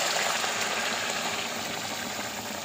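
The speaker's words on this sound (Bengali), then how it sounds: "এবার এই গরম জলটা দিয়ে দিলাম।" Hot water pours steadily into a simmering vegetable and fish curry in a home kitchen, a continuous close gushing hiss with no speech over it.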